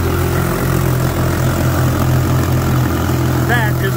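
Two big boat outboard engines run steadily while being flushed with hose water, a loud continuous low drone, with a brief voice near the end.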